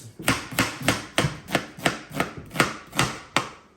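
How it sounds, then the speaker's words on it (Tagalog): An onion being chopped with a knife on a board, about ten crisp, evenly spaced chops in a steady rhythm, close and clear with no talking. "Ganyan lang yung pagkakahiwa ng sibuyas."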